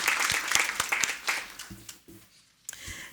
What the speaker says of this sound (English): Let's just give another round of applause to all of our amazing students and the Si Se Puede winners.